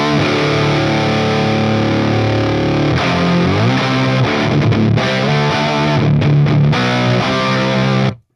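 A heavily distorted electric guitar through borderline-fuzz pedal gain, saturated, rings out in sustained chords before breaking into choppy, stuttering strums that cut off abruptly.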